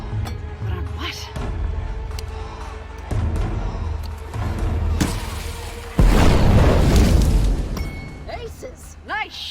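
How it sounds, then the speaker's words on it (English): A flare gun fires in the Wanderer VR game, a loud burst with a long hissing, crackling trail among background game sounds and music, with a voice speaking over parts. "Oh, flare gun. Time to use it, I guess."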